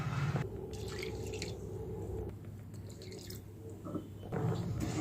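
Water is poured from a glass over jaggery in a cooking pot, a close wet splashing and trickling that pauses briefly, then resumes with soft drips and sloshes.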